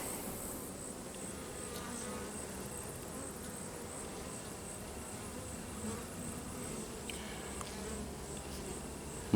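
Honeybees buzz steadily around an open hive during an inspection of frames with eggs and larvae, a dense continuous drone close by with no talk.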